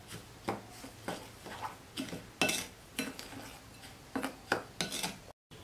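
A spoon stirs a batter of corn flour, rice flour, sugar and salt in a bowl, making repeated close scraping and clinking strokes at an uneven, steady rhythm.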